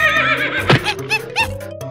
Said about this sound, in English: Horse.